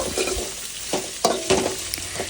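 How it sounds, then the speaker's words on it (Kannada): Tomato, mint and dried red chillies frying in a pan for chicken bussaru, a steady close sizzle broken by several sharp scraping stirs of a spoon, with no voices. "ಟೊಮ್ಯಾಟೊ ಪುದೀನ ಒಣಮೆಣಸಿನ್ಕಾಯಿ ಮತ್ತು ಬೇಡಿಗೆ ಮೆಣಸಿನ್ಕಾಯಿ ಇದನ್ನು ಅದ್ರ ಜೊತೆಯಲ್ಲೇ ಹಾಕಿ ಮತ್ತು ಇದನ್ನು ಫ್ರೈ ಮಾಡ್ಕೊಳ್ಬೇಕು"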